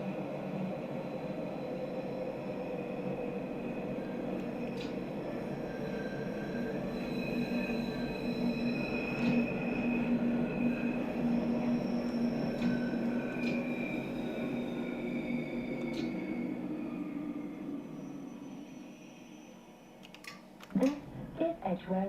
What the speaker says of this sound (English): This is a Bakerloo line train to Elephant and Castle